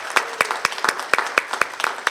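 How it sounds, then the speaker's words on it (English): Honoring the Terrific Kids at Browning-Pearce school, a small group claps in a quick, uneven rhythm, sharp individual hand claps close by rather than a large roaring crowd. "let's give them a round of applause"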